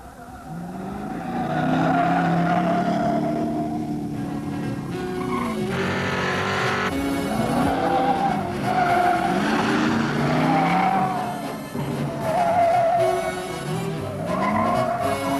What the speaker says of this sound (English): Our test car came with a standard 351 cubic inch V8, topped with a two-barrel carburetor.